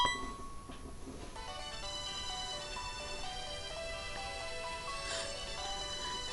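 A phone ringtone chimes in the Pokémon Silver video game, a bright electronic jingle of stacked tones that plays steadily alone for several seconds, swelling slightly near the end.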